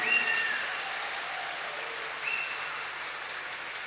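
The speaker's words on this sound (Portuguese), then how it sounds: "Uma salva de palmas para o Papa Francisco." A church congregation at Sunday Mass claps for Pope Francis, a soft, distant patter of hands that swells briefly, fades and rises again faintly.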